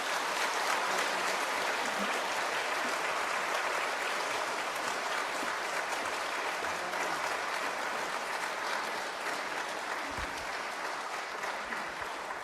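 A concert audience at a Catholic church book event claps steadily in sustained applause, welcoming author Kim Hong-shin to the stage, with the sound thinning slightly toward the end.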